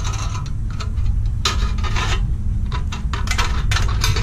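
Tin snips cutting a metal roofing panel, short crunching and rasping snips in irregular bursts over a low rumble, close up, no talk.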